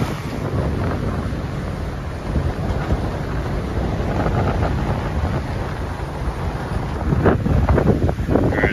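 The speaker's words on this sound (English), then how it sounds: "Pretty windy today." Steady gusting wind on a boat near Stuart, Florida rumbles across the microphone, with broad rushing noise like open water nearby, getting a little louder toward the end.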